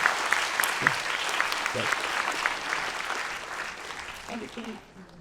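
An audience at an ESG talk claps in a sustained round of applause that gradually thins out, while a voice speaks over it.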